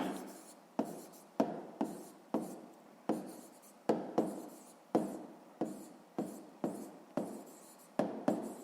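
Pen or pencil writing by hand during a sixth-grade math exercise, a steady run of close, crisp scratching strokes, each starting sharply and trailing off, repeating about every half second with no talk.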